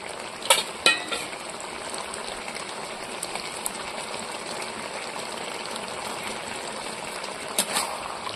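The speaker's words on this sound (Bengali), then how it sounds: "লাউটা ফ্রাই হয়ে এসেছে, এবার জিরে বাটা দিয়ে দেব" Soft bottle gourd fries in a pan with cumin paste going in, a steady moderate sizzle with a few sharp clinks and scrapes of a utensil near the start and end, no voices.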